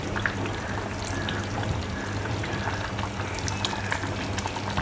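Vinegar is poured into a bubbling pan of Kerala roasted-coconut egg curry, producing a steady close simmering hiss and liquid wash with no voices.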